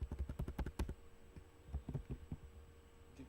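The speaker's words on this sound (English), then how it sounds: "we type Jupyter" Quick keystrokes on a computer keyboard, a fast run of soft clicks followed by a pause and a few more scattered taps, quiet and close in an otherwise still room.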